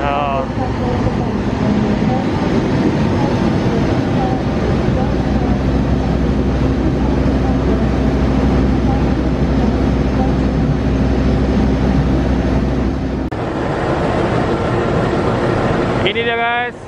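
A KRL commuter train rumbles loudly and steadily at Gambir station, a continuous low roar of motors and wheels filling the platform, with a brief high squeal of braking metal near the end.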